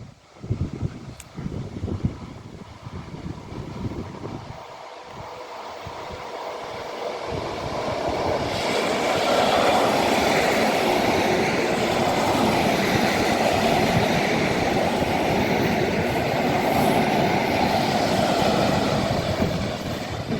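Two coupled EN57AL electric multiple units of Koleje Mazowieckie on the R60 Małkinia–Warszawa Wileńska service at Tłuszcz station; quiet wind-buffeted ambience gives way after about eight seconds to a loud, sustained rushing rumble of the train passing close by.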